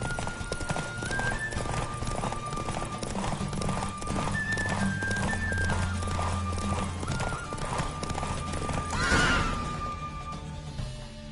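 The horse Roach gallops through a race in The Witcher 3, with fast rhythmic hoofbeats and a neigh over a steady game music bed and a swelling crash near the end.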